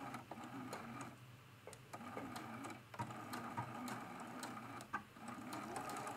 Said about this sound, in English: We're going to backstitch when we start.